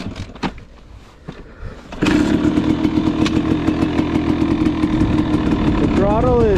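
A 2023 GasGas MC250 dirt bike starts cold after a few clicks and kicks, then settles into a loud, steady two-stroke idle with a quick throttle blip near the end, close to the microphone.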